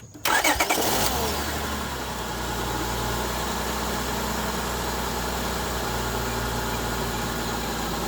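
A 2003 Honda Odyssey engine cranks briefly and fires up, then settles into a steady, close idle with a low hum that continues unbroken for several seconds.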